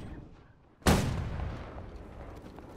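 A warship cannon fires chain shot in a naval battle in a period war game, one sudden loud blast followed by a rumbling, echoing tail that slowly fades.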